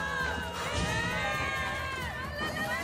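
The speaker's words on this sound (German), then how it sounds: "Gewonnen. Alle jubeln für mich." A crowd cheers and shouts together in a continuous, excited roar, like an arena audience in Assassin's Creed Odyssey, with no single voice standing out.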